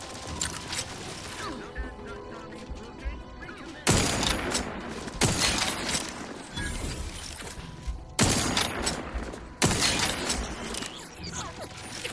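Gunfire in The Outer Worlds 2 on PS5 Pro: loud bursts of rapid shots in several volleys with sharp impacts and clatter, a dense firefight heard close up.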